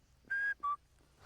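A sheepdog handler's whistle commands to a border collie: two short, steady high-pitched notes, the first slightly longer, blown close by and standing alone against quiet outdoor background.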